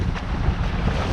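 Steady, loud wind buffets the microphone on open water near a waterspout during a tornado warning, a continuous rumbling roar with no talk.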